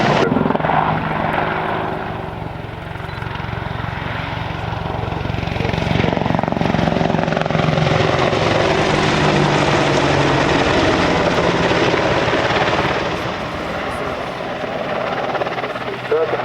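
An Apache helicopter manoeuvres forwards, backwards and sideways along the airfield at the Cosford airshow, its loud rotor and engine roar steady and near throughout, with a public-address voice talking over it.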